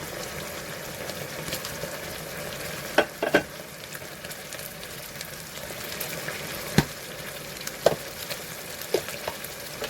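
Fingerroot and chilies tipped into stir-fried catfish set off a loud, continuous sizzle, with a few sharp scrapes and clinks as the pan is stirred.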